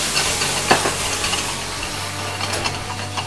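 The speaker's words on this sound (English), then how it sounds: "So when I flip it, I'm gonna add a little bit of our locally made Don Papa rum." Locally made Don Papa rum splashing into a hot pan of Ferrero French toast, a dense, loud sizzle and spatter close up, with a few sharp crackles and pops throughout.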